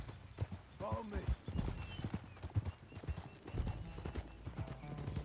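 Horse hooves clopping in Red Dead Redemption 2, rapid rhythmic hoofbeats running throughout at close range, with voices talking intermittently over them.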